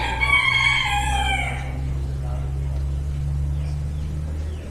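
Broiler chickens at a county fair poultry show, with a loud nearby rooster crow in the first second and a half, then a steady low mechanical hum of ventilation fans beneath faint clucking.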